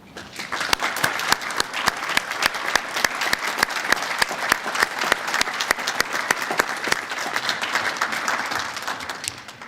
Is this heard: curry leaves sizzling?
no